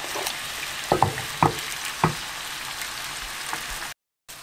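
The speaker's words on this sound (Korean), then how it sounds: "이렇게 살살 끓이실게요" Dried pollack braising gently in soy sauce liquid over low heat: a steady bubbling sizzle with a few sharp pops and crackles, then a brief cut to silence at the end.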